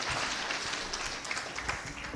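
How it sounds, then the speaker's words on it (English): Audience applause at a Kenyan county budget transparency award launch, celebrating Kwale county: a steady, fairly faint wash of many hands clapping that carries through without a break. "Clap for Kwale."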